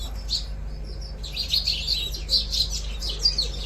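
Pigeon chicks chirp while being hand-fed grain one seed at a time. The high, thin cheeps come in quick, repeated bursts, faint to moderate, over a low steady background hum.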